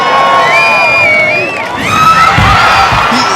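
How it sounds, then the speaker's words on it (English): A loud crowd at a Sasuke obstacle course event cheers and whoops continuously, with high excited shouts and screams rising over the roar, up close and intense. "The crowd is going nuts."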